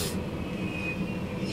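A BNSF freight train passes at a distance, a faint steady rumble with a thin sustained high tone from the rails or horn, brief and unbroken.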